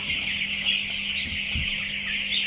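Chickens cluck continuously at close range, a busy overlapping chatter of hens with occasional sharper calls and no talking.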